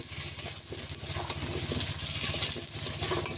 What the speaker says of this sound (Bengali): আলু আর পেঁয়াজ একসঙ্গে ভাজা ভাজা হয়ে যাবে